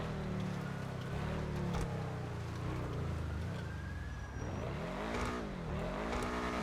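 A car engine in GTA 5 roleplay drives around a city block, revving and droning with rising and falling pitch as it accelerates and shifts, fairly loud and continuous with no talking over it.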